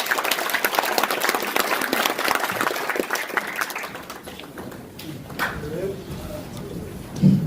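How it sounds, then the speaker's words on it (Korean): A seminar audience in a small meeting room at a National Assembly office building claps to welcome a lecturer, dense close applause for about four seconds that thins out and fades, then quieter room noise. "박수로 다시 한번 모시겠습니다."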